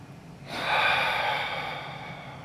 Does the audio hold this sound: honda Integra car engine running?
no